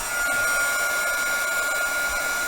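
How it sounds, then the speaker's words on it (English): A heat dryer used for washi tape crafting runs steadily, a loud, constant whirring blow with a thin tonal whine throughout, nearby and alone. "Sorry if this heat dryer is noisy, but you gotta see the process."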